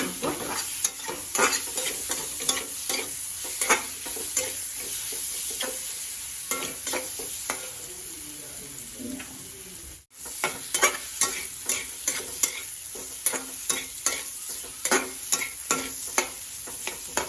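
A steady sizzle comes from potatoes frying with a spoonful of cumin in an Assamese home kitchen. Frequent scraping stirs cut through it, with a brief drop near the middle before the stirring resumes.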